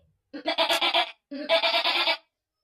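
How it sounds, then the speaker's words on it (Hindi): A black goat bleats twice, each call a loud, close, wavering cry lasting about a second, with a short pause between them and silence around them. "मिमियाने लगती है"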